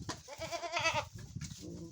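Goats bleat on a Ukrainian village farm, a run of loud, close, wavering cries that rise and fall over about a second, followed by lower grunting calls and shuffling farm noise.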